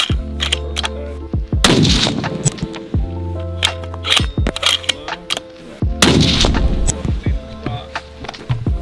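Sig Sauer Cross bolt-action rifle shots ring out loud and close, sharp cracks with booming tails repeating among other impacts over background music.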